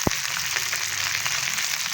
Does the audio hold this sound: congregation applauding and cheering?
no